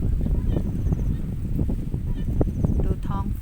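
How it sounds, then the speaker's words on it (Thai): Geese or other fowl honk and call repeatedly outdoors in rural Thai countryside at sunset, a steady mix of calls over a continuous breezy background. "เสียงนกร้อง"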